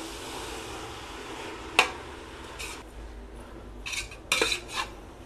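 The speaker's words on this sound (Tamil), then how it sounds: "நல்லா மிக்ஸ் பண்ணி விடுங்க." Chicken biryani masala with mint and coriander being stirred in a pot, faint scraping with a few sharp spoon-against-metal clinks, quiet and close, no talking.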